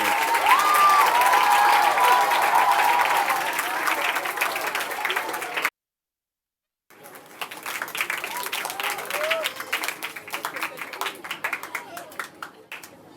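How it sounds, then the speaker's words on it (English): An audience at a school annual day gives loud, sustained applause with some cheering as the directors come on stage. It breaks off into a brief silence, then resumes as scattered, sparser clapping. "let's give a huge round of applause as we welcome our directors Sudeep sir and Manoj sir on stage"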